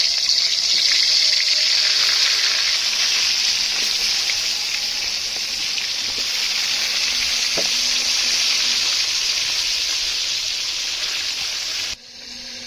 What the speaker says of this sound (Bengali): কড়াই গরম হয়ে গেছে, তেল দিয়ে দিই